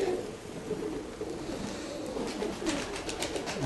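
Pigeons coo softly and repeatedly at a distance, a low steady murmur of birds with no voices nearby.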